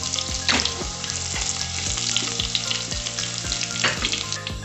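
Dried red chillies and curry leaves frying in hot oil in a pan for Kerala koottu curry, a loud steady sizzle with occasional stirring scrapes and no talk.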